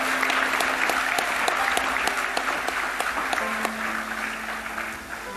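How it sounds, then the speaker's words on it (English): Hall audience at a college golden jubilee celebration in New Delhi breaks into dense, steady applause, loud and sustained throughout, tapering slightly at the end. "Let us give a big round of applause to all of them."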